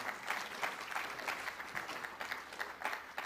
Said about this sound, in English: Do you hear them cheering over there?